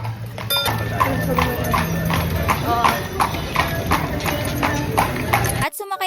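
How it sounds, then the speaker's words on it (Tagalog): Horse hooves clip-clop in a steady rhythm on pavement as the animal pulls a kalesa carriage through the streets of Vigan City, with people talking over the clatter throughout. "napakalaking kabayo at napakaganda din ng kalesa ni Kuya"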